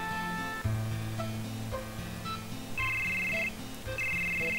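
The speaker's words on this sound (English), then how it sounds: "Yay, the phone rings!" A telephone rings in Final Fantasy VII, a synthesized electronic ring that repeats in two clear bursts over a low game music bed, with no voices.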